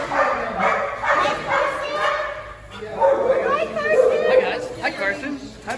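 A neutered shelter dog barks and yips excitedly in a kennel area, several loud, near barks mixed with other dogs' chatter while people talk nearby.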